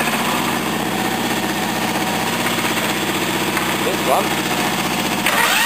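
A small overhead-valve petrol engine, a Briggs 14 hp V-twin or a Honda 13 hp, runs steadily at close range with an even, buzzing idle throughout, while a voice speaks briefly over it.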